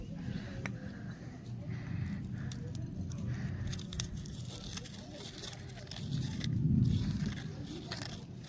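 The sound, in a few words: crumbling roasted chilies by hand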